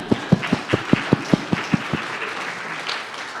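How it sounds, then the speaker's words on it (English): Applause at a data launch event, with about a dozen sharp evenly spaced claps close by standing out over a softer crowd clapping that continues after they stop. "give her a round of applause"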